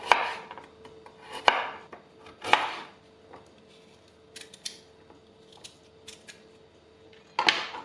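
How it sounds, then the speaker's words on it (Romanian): A knife slices a carrot into rounds on a board, giving quiet, crisp cuts in a loose irregular rhythm with short pauses between strokes. "Tăiem și morcovul în rondele."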